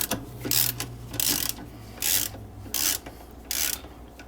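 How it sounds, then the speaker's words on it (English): A socket wrench ratchets as it loosens the agitator bolt of a washing machine: repeated clicking, rasping strokes in a steady back-and-forth rhythm, close and moderately loud, with a faint low hum beneath. "get a socket on it, hold the bottom of that thing, hold the bottom of the agitator, just start loosening it until the screw comes out"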